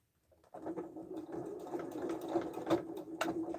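A sewing machine stitches a tote bag, starting up after a brief pause and then running in a steady, fast, close-up patter with slight speed changes.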